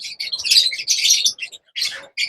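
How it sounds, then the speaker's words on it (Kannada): South African lovebirds, small parrots, chirping close by in rapid, shrill bursts with brief gaps between the flurries. "south African love birds"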